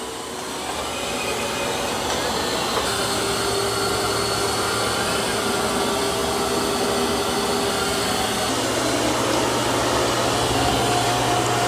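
A robot vacuum cleaner runs steadily over carpet with its mop pads lifted, producing a loud, constant motor whir and airflow hiss whose pitch shifts slightly partway through.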